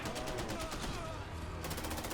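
Rapid automatic fire from a BPRE AR rifle aimed at a turret in Fallout 4, a dense continuous volley of shots running throughout with no pause.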